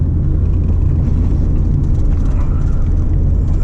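An Acura RSX Base driven fast on a bumpy backroad gives off a loud, steady low rumble of tire and road noise mixed with engine drone, heard from inside the car without any talking.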